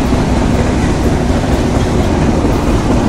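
The Padma Express passenger train runs between Sirajganj and Dhaka with a loud, dense, continuous rumble and rattle, heard from inside.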